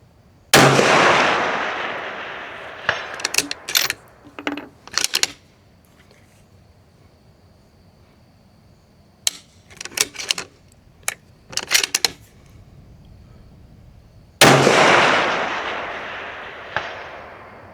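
Two loud 6.5 Creedmoor and 6GT rifle shots ring out at an outdoor range, one at the start and one near the end, each followed by a long decaying echo, with bolt and equipment clicks in between.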